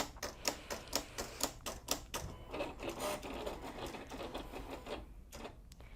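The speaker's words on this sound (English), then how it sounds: "Now this is going to cut a tiny square and a triangle, so we can figure out how well the settings are." A Silhouette CAMEO cutting machine makes a small test cut in EasyWeed Stretch vinyl, starting with a rhythmic series of crisp clicks and taps that settle into a softer, uneven mechanical whirring, fairly quiet and close.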